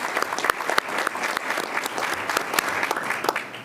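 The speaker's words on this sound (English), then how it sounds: "Please join me in one more round of applause for the Cinnaminson High School Marching Band." Audience applause at a school board meeting honoring the Cinnaminson High School Marching Band, a steady wash of many hands clapping with a few sharper nearby claps standing out, moderately loud throughout.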